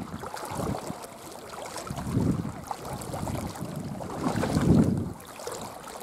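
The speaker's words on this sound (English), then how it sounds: "Wading through the waters." Someone wades through water at fish ponds, with slow splashing and sloshing surges roughly every two to three seconds over wind noise on the microphone, and no talking.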